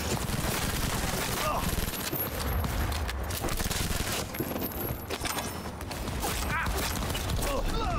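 Police opening fire in the video game Cyberpunk 2077, rapid dense bursts of automatic gunfire with mechanical clatter filling the whole stretch, loud and continuous with brief lulls, mixed with other game sounds.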